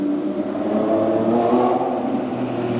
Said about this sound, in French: on retrouve quand même le bruit du V12 de la Ventador